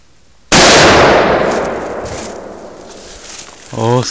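A single sharp, loud gunshot rings out outdoors and decays over several seconds, and a voice speaks briefly at the end.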